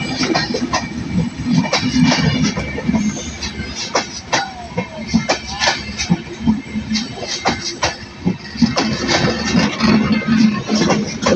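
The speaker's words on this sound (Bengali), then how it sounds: "অনেক বড় একটি ট্রেন।" A large train passes close by, with loud repeated clickety-clack wheel beats, rumbling wagons and occasional sharp metallic clanks over about eleven seconds.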